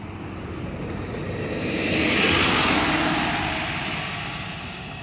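Milênio 5 bus of Aviação Gato Preto, fleet number 82764, running past at the Metrô Barra Funda bus station in São Paulo, its engine noise swelling as it nears, peaking midway, then easing off as it pulls away.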